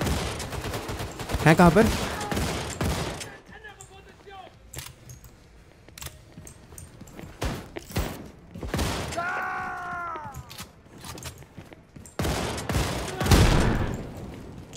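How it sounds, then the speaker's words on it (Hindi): Machine-gun shotgun firing in Wolfenstein II, heard as several loud bursts of rapid gunfire separated by quieter gaps with mechanical clanks, while someone speaks Hindi between shots. "This is a game changer. Basically एक मशीन गन शॉट गन"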